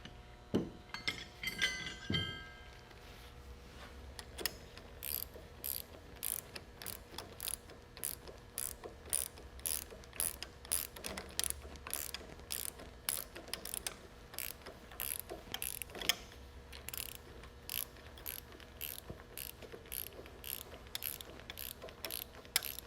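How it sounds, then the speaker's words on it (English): A ratchet snugs the bolts on a regen solenoid, a long run of rapid, evenly spaced clicking strokes with short pauses, close and moderately quiet. "we're going to snug these to approximately 36 inch-pounds"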